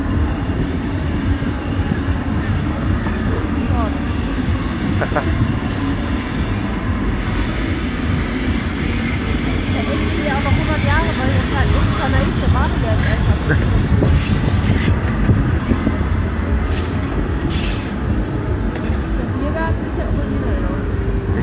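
A passing train heard from the Airborne fairground ride at the autumn fair in Osnabrück: a steady, loud rolling rumble of rail wagons goes on throughout, mixed with ride and fairground noise, while people talk now and then.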